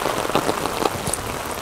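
Rain drums on a rooftop tent at a campsite during a heavy downpour, producing a dense, constant patter with scattered louder drops tapping close by.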